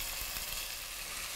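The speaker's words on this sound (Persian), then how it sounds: "من یه 1-2 دقیقه میذارم این گوشتش کمی سرخ بشه" Steady sizzling hiss of meat frying in a pot for Persian green bean stew, a continuous crackling wash at moderate level with no talking.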